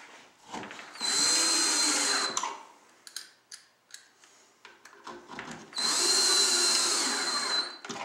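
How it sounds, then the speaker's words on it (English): Power drill driving glue-dipped pocket screws into wood during furniture assembly, two sustained bursts of whirring with a short stretch of clattering and handling between them, close and loud, no talking. "And then hit these 2 pocket screws on top, once again dipping your screw in glue."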